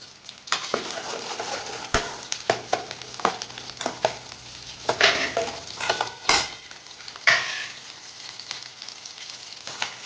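Small onions frying in a pan while being stirred, with irregular scraping stirs over a steady close sizzle, no talking.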